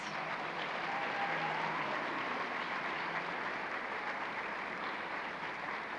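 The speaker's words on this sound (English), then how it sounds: "And let's give a round of applause to all the nominees tonight." An awards-ceremony crowd claps for all of the evening's nominees, a continuous, evenly sustained wash of hands lasting the full six seconds, heard from a moderate distance and without voices.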